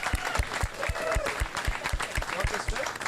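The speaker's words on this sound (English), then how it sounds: "can we all give a really proud, brave round of applause for Edith for coming down to speak today" Audience applause for Edith at a crypto culture dinner gathering in Playa del Carmen: steady, dense clapping with a regular low thumping beat underneath, holding at an even level throughout.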